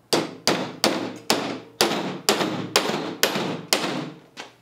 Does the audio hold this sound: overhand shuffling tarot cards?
no